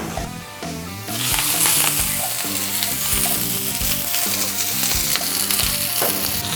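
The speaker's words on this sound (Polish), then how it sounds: "Energicznymi ruchami szybko mieszamy sałatę na grillu." Steady sizzling and frying as romaine lettuce is stirred briskly on a hot grill, with scraping and clattering over a loud, continuous hiss.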